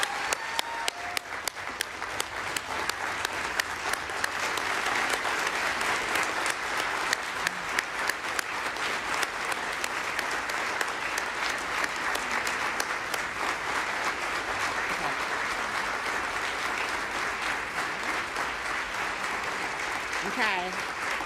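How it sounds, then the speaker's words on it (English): A ceremony audience at the State Department's human rights awards applauds the awardees in a long, sustained, even wash of many hands clapping at moderate loudness, with faint voices in the background. "please join me in one more robust round of applause for all of our phenomenal awardees"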